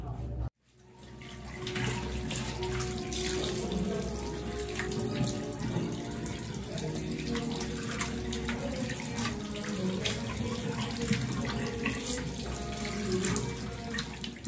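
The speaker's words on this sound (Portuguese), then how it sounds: "enxaguei lá como vocês viram, só com água" Tap water runs steadily for a hair rinse, a continuous close splashing rush that holds at an even level from start to finish after a brief silent gap at the very beginning, with no talking.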